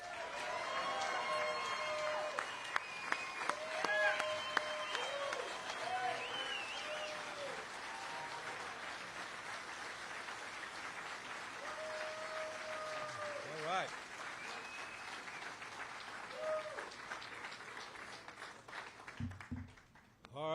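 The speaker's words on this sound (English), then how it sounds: "So please give a big round of applause to President Fain." Crowd applause at a labor rally against NAFTA 2.0: sustained steady clapping from a large audience through most of the stretch, with a voice over a loudspeaker speaking over it and the clapping fading out near the end.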